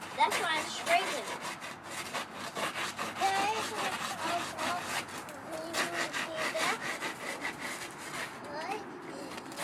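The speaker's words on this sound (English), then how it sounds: "That's why I'm scraping." Ice is scraped to gather snow in a continuous, gritty rasping rhythm up close. Children's voices chatter over and around the scraping.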